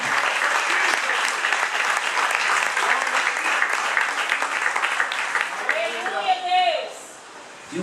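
A church congregation breaks into loud, sustained applause that fills the room and then tapers off near the end, with a voice rising over the clapping.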